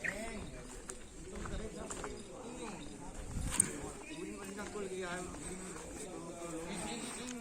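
Racing bulls in kerapan sapi practice on the Asemanis field, their hooves giving a faint, uneven clip-clop under near-constant talking and outdoor background noise.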